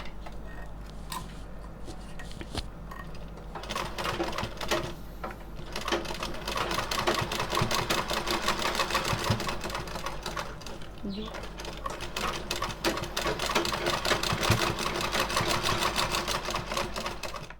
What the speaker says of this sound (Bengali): এটা ফোল্ড করে এবার সেলাই করে নেব।